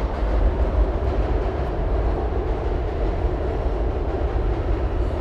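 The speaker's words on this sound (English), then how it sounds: "We'll wait for this train to pass." A train passes close by, its steady loud rumble and rolling wheel noise filling the whole stretch without a break, beside a high school athletic field.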